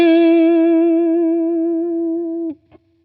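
Single sustained electric guitar note with its vibrato reshaped by Logic Pro X Flex Pitch, ringing clearly and slowly decaying before a sudden cutoff and a small trailing pluck, no voices.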